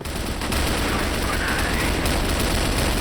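Rapid gunfire from the CrossFire video game during an esports quarter-final match, a dense, continuous rattle of shots filling the whole stretch at steady loudness with no talk over it.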